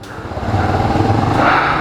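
A 2019 Bajaj Avenger 160 Street ABS, a 150 kg cruiser motorcycle, rides through an underground parking area, its engine a close steady droning rumble that rises slightly in level, with no talk.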